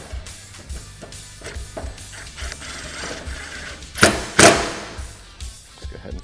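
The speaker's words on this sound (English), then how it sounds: "Let's go ahead and fully tighten it." A ratchet tightens roof mounting hardware on a Can-Am Maverick X3 MAX with an aluminum roof, giving a steady close run of small clicking turns, then two sharp, louder metallic clanks near the end.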